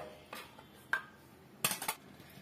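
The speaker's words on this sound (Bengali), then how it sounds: "এইবার আমি ছাঁচুনি দিয়া এই লাউটা ছেঁচে নেব, ছোট ছোট করে ছেঁচে নেব।" A handheld chhechuni, a Bengali kitchen crusher, bashes and scrapes bottle gourd (lau) into small bits: a few short, close scraping knocks in separate bursts, with the last two coming quickly one after another, and no voices.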